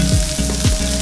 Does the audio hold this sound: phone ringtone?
no